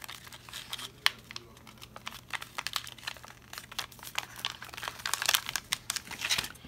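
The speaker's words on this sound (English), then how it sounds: "Fold the top over." A paper craft card, a hot cocoa memory dex card, is folded and creased by hand, giving close, soft crinkles and sharp paper snaps in an irregular series with no talking.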